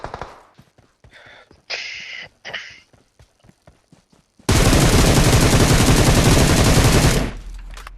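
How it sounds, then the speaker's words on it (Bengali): Gunfire from a video game set at a power plant: a few sharp single shots, then one long loud burst of rapid automatic fire lasting nearly three seconds before it cuts off. "আরেকটা গুলি লাগলো"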